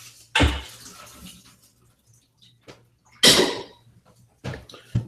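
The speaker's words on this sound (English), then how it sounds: "To rinse the asparagus tips here" Water gushes in short bursts from a kitchen tap as asparagus tips are rinsed, two louder splashing spells and a few brief trickles separated by quiet gaps, with no talking.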